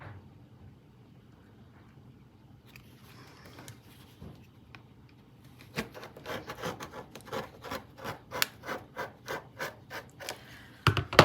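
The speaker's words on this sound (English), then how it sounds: "now I'm gonna take a ruler, any ruler, and I'm just gonna lessen the bulk in this seam" A ruler is scraped along a thick fabric seam to flatten the bulk, starting as faint, quiet rubbing and building into a series of rhythmic, rasping strokes that grow louder toward the end.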